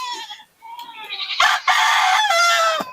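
Farm chickens sound off loudly and close by, with a rooster's drawn-out crowing mixed with clucking calls in a continuous, overlapping stretch and no talking.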